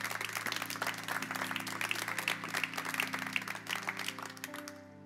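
A church congregation bursts into steady, dense applause that holds for several seconds at moderate volume and then thins at the end, over a sustained low musical drone.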